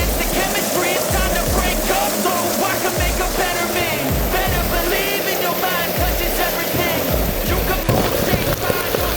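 Heavy rain pouring onto a mountain trail on Mount Lawu, a dense, loud hiss of drops that continues throughout, with irregular low thumps and patters mixed in.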